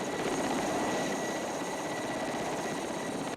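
A helicopter bringing tourists to the North Pole gives a steady, loud rotor and engine drone that holds evenly throughout with no voices.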